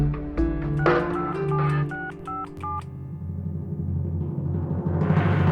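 A telephone number is dialed by hand on a home phone, a quick series of distinct keypad tones tapping out the digits over a low hum, then a faint ringing line after the last key.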